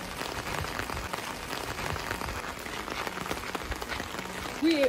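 Steady rain pours down in Shillong, Meghalaya, a dense, even hiss that fills the scene at moderate level and continues without a break.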